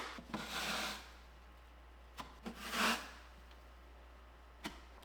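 A 14-inch putty knife scrapes excess drywall compound off a wall in two long, close strokes, with a few short taps and scuffs between them and no talking.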